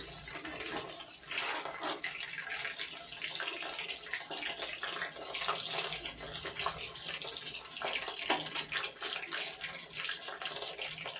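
Chicken pakoda pieces fry in hot oil, a dense, continuous sizzle and crackle with fine popping bursts throughout, fairly close and quiet, with no talking.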